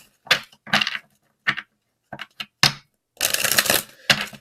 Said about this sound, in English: we will shuffle the Soul Journey card now and pull that out